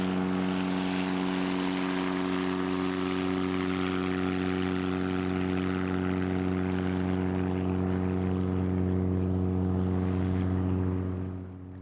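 A propeller race plane's engine roars loudly and steadily on the runway as it takes off, a strong droning buzz with a constant pitch that holds for several seconds, then eases slightly at the end.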